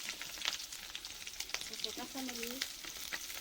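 Whole cumin, onion and green chili sizzle in hot sweet oil in a heated wok, a steady close frying hiss with a short spoken word over it.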